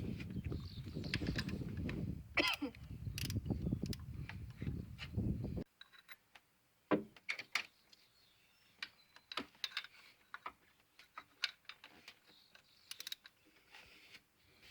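A long 15 mm wrench works at nuts on the power steering pump of a 2000–2003 Mercury Sable, giving sparse, faint metallic clicks and taps after a brief burst of louder noise.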